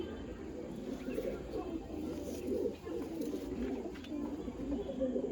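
Quality pigeons, a male and female shown for sale, coo in a soft continuous low burble up close, with faint chirps and a murmuring voice underneath.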